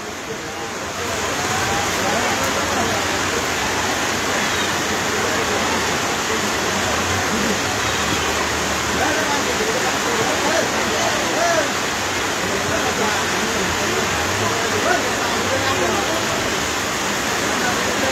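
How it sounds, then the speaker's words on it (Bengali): Steady rain falls outdoors in a rural setting, a dense continuous hiss that holds at an even level throughout with no talk. "এই যে বৃষ্টি পড়তেছে"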